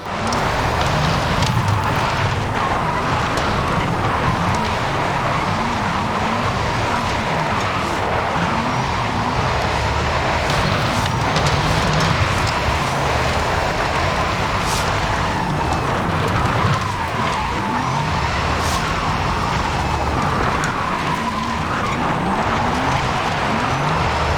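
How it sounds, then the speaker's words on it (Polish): Steady, loud engine-like hum and tire noise from a Porsche Taycan electric car drifting in Forza Horizon 5, with continuous skidding texture and no talk for the whole stretch. "Taycan ma jakiś tam dźwięk. Ja chwilę będę cicho, to posłuchajcie."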